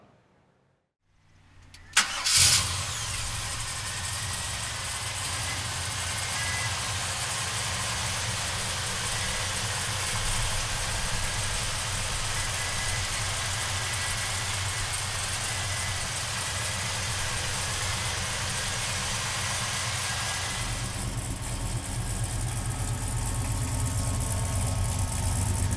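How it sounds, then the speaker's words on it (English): A 1970 Chevrolet Chevelle with a 502 engine cranks briefly after a moment of silence, fires up with a sharp catch, then settles into a loud, steady, rumbling idle that holds close and unbroken for over twenty seconds. "So come on up and we're gonna fire this 502 up."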